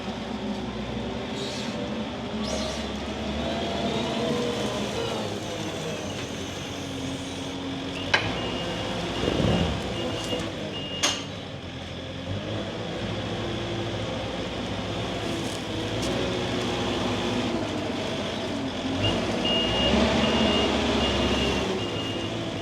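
A new tractor loader carrying a bale on pallet forks drives along with a continuous engine drone, rattles, clanks and a few sharp knocks over roughly twenty seconds.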